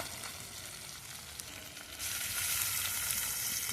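Jamaican stew chicken cooking in a pot over an outdoor wood fire, giving a steady close sizzle and bubbling hiss that swells louder about halfway through, with no voices.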